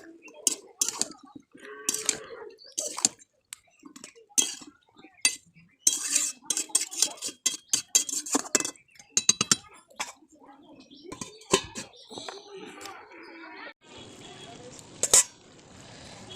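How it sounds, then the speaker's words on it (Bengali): A pot of cabbage and eggplant curry is stirred with a utensil, giving repeated scraping clinks and clatter against the metal, followed by the lid being set on; occasional speech is present, with a steady hiss near the end. "এবার একটু ভালো করে নেড়ে চেড়ে ঢেকে দেবো"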